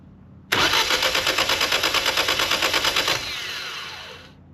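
A Ford Festiva fitted with an EcoBoost engine cranks on its starter in a loud, close, steady rhythmic chug for about two and a half seconds, then settles into a fading whine that tails off without catching.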